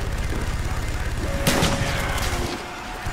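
Gunfire from the Black Ops Zombies video game rattles in rapid, dense bursts, loud and continuous, with a sharper blast partway through before the firing eases off near the end.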